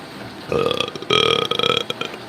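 A person lets out a long, loud burp after drinking coffee at a glassblowing studio, rumbling in two drawn-out, croaky pulses close to the microphone.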